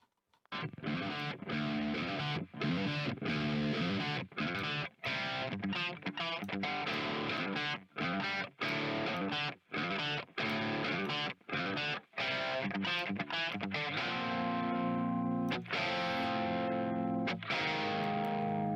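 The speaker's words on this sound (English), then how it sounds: "It has the family sound of what you expect a rectifier to sound like." Heavily distorted electric guitar through a Rectifier amp simulation in Positive Grid Bias, playing chugging riffs with short palm-muted stops, loud and saturated, no talking.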